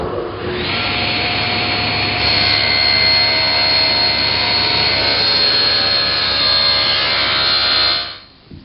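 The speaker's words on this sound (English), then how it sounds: "I've tilted the table saw blade to 30 degrees and adjusted the rip fence for the correct height" A table saw with its blade tilted to 30 degrees rips a bevel through plywood: a loud, steady whining roar that holds for about seven seconds, then winds down.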